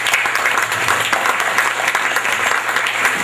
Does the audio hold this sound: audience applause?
yes